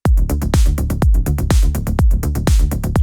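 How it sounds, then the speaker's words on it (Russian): Hi-hat loop from a sample pack, playing in FL Studio for a melodic techno track: a loud, steady pattern of crisp metallic ticks with longer open-hat hisses, layered over punchy low thumps in a tight repeating groove, with no voices. "Вполне себе достойный хэт-луп."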